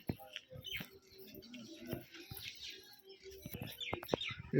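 Rajshahi Giribaj pigeons in a loft give off soft chirps, fluttering and light rustling, faint and scattered, with muffled voices in the background.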